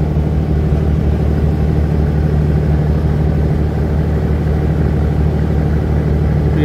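Steady low engine drone aboard a passenger river launch cruising fast from Dhaka toward Chandpur, a constant deep rumble with an even hum and no breaks, no voices.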